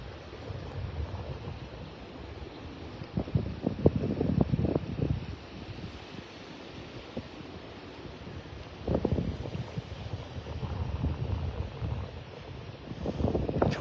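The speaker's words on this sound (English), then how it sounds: "Love the sounds of the waves out there breaking on the sandbar." Waves break in bursts on a distant sandbar at a beach in North Naples, Florida, rising and falling surges of rushing water with a steady wind-like hiss between them.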